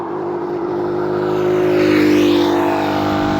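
Traffic speeds along Nanyuki Highway in the evening, a loud engine roar swelling as a car passes close by over a constant road hum.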